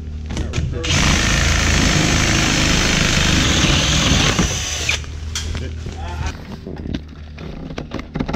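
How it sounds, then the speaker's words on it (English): Power drill boring a hole through a wall during a garage build, a loud sustained whine with harsh broadband grind for about four seconds, then stopping to scattered knocks and handling noise. "we had to drill the hole"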